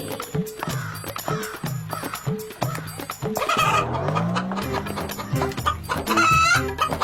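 A rooster clucks and crows loudly close by, a run of repeated rhythmic clucks followed by longer rising calls, with no talking over it.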